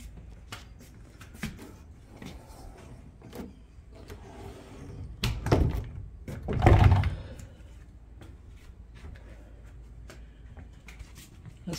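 Side door of a riverside house in Ruskin, Florida being opened and shut, with a rattle and latch clunk, then a louder thud and a swing sound mid-clip, among quieter handling noises.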